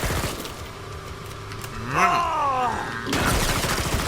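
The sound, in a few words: gunfire in the video game Killing Floor 2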